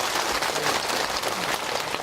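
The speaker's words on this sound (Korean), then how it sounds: "큰 박수로 맞아주시죠" An audience at a Buddha's Birthday Dharma talk at a Korean Buddhist temple claps in a dense, even patter for about two seconds, fairly soft and slightly distant.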